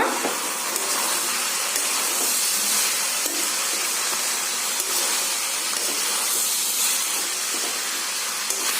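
Rice and vegetables fry in ghee in a cooker for paneer pulao, giving a steady, even sizzling hiss close by with no pause.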